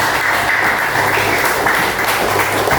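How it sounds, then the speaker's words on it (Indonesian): A seated audience in a classroom or workshop gives steady applause for a participant, an even, continuous wash of clapping that holds at the same loudness throughout. "beri tepuk tangan untuk Mbak Putri"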